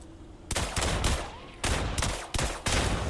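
Gunfire with Teflon bullets in System Shock: four loud, close bursts of rapid shots separated by brief pauses, each cutting off sharply.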